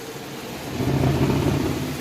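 A Super Deal portable mini twin tub washing machine running its spin cycle, a steady low motor hum with a rumbling drum that swells slightly partway through.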